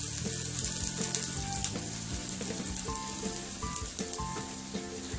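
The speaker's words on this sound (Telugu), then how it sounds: "ఫ్రై చేసుకున్న తర్వాత సన్నగా కట్ చేసి పెట్టుకున్న ఆనియన్ వేసుకోవాలి" Thinly sliced onions fry in hot oil in a pan for ragi roti, giving a steady close sizzle and crackle with a few stirring clinks.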